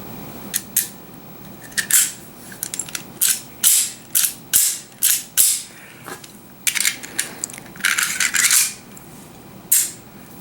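Action of a Type 94 Nambu pistol during a function test: a rapid series of sharp metallic clicks and clacks, about a dozen close, loud snaps in irregular rhythm as the slide is racked and the trigger dropped, with no talking.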